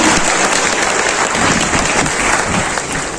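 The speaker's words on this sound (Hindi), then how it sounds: "इसके लिए एक बार जोरदार ताली।" Loud, dense applause from a large crowd, sustained steadily throughout and fading slightly at the end.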